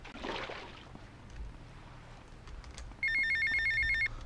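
A payphone rings in the Grand Theft Auto: Vice City video game, a single burst of electronic trilling partway through, heard over quiet game ambience with a brief rush of noise at the start.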